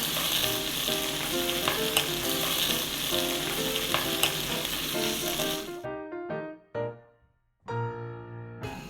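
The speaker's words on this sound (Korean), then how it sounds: "고사리 볶으실 때는 다시마 울긴 물 좀 넣겠습니다" Bracken fern sizzles and crackles steadily as it is stir-fried in a hot pan, then the sizzle cuts out briefly and flares back loudly as kelp stock or stirring resumes.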